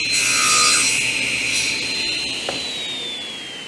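A table saw blade cuts a 30-degree bevel through a piece of scrap wood on a miter sled, a single loud, close, steady rasping cut that tapers off as the blade winds down.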